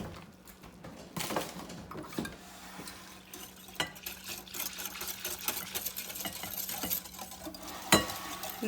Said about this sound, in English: And I'm going to do this just with my whisk.